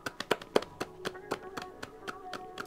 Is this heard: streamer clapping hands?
yes